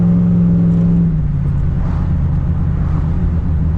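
A turbocharged Thunderbird engine revs to about 4,500 rpm, a loud, close roar whose pitch drops after a second and settles into a steady, throaty rumble.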